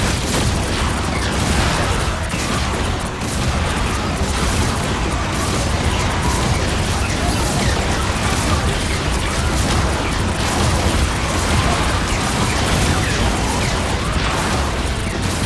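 Rockets firing and exploding in the video game Marvel Rivals, a dense, continuous roar of blasts and booms, loud and relentless with no pause, no talk over it.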